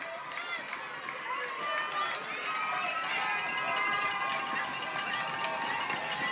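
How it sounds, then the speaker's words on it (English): Crowd noise builds at a high school varsity football game, Holliston versus Westwood, as a steady, dense roar of cheering and chatter with scattered shouts sustained throughout. "Crowd getting a little revved up on this 4th down."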